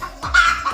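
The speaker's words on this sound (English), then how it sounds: "This is a hen." A brief clucking call from a hen, a few short nasal, fowl-like notes lasting under a second, heard alone and fairly close.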